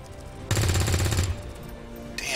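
Gunfire in XCOM 2, a single loud rapid burst of automatic shots lasting under a second, followed by a fading ring and a brief sharp effect at the end.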